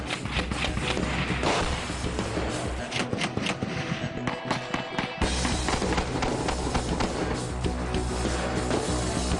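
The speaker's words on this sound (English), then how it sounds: "The 50 caliber rounds make light work of the brick wall and anyone behind it." Rapid bursts of 50 caliber fire slamming into a brick wall, loud dense cracks and impacts in quick succession with a short pause midway before the barrage resumes.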